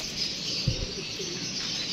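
A male and female pair of tournament-flown pigeons, held in the hand, give one low, brief coo at close range over a steady background hiss.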